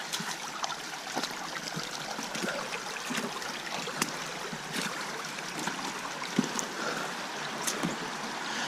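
Water flowing in a woodland creek, a steady trickling burble with scattered splashy ticks, moderately close and without voices.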